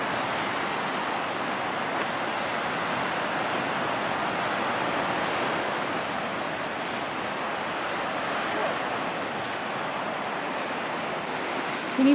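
Ocean surf at Bowling Ball Beach near Point Arena, California, makes a broad, steady rushing wash, heard from a distance and unbroken, with no voices.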